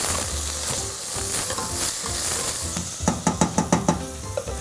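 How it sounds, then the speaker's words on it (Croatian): Onion, root vegetables and chicken sauté in a pot with a steady sizzle and hiss, then a run of sharp, rhythmic knocks like a utensil stirring against the pot near the end; no voices. "dodat ćemo i ovo drugo korijenasto povrće koje ćemo do kraja propirjati"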